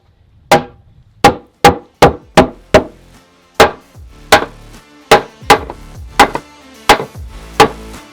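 Sharp hammer blows strike wood while fixing the front of a house, about a dozen loud, distinct whacks at an uneven pace, each ringing briefly before the next, with no talking.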